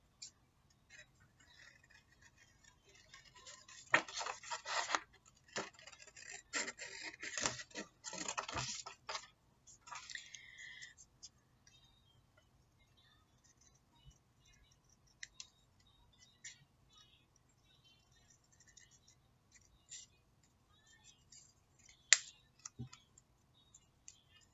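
Scissors snip through paper while cutting out eyes for a paper hedgehog craft, a burst of close crisp clicks and crunches mid-clip, then sparse faint ticks and one sharp snap near the end.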